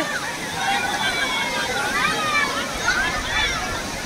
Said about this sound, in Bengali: ওই দেখো, বাপরে বাপ, ঢেউ কোথায় চলে আসছে